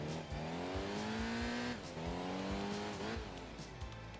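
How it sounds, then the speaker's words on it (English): A V8 race car engine in the Enthusia Professional Racing video game revs up and down in a few rising sweeps, loud and close, with faint tire squeal during a touring car race. "revving V8 sound."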